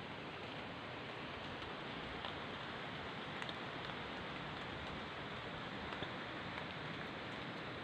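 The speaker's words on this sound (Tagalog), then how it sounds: "Umuulan-ulan po eh. Kaya basa po ngayon yung mga halaman." Steady rain falls through a forest thick with wet vines and ornamental plants, a constant dense patter close by with no gaps, no voices over it.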